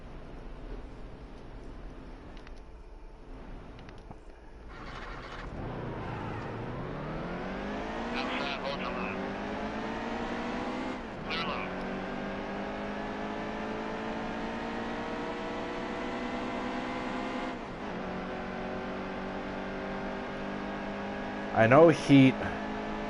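Race car engines in the NASCAR Heat 2 video game rev up and climb through the gears with a steady, rising drone, punctuated by shifts, while someone speaks briefly near the end.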